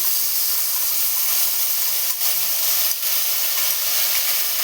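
Paste of cashews, raisins, coconut and poppy seeds hitting hot oil tempered with nigella seeds, giving a loud, steady broadband hiss and sizzle that holds without a break for the whole stretch, with no voices over it.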